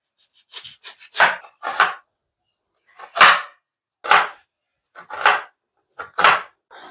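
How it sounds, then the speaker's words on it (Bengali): A knife chopping an onion: about a dozen crisp, close cuts against a board, some in quick clusters and others spaced with short pauses, over otherwise quiet surroundings. "এরপর আমি পেঁয়াজগুলো পেঁয়াজটা কাটবো"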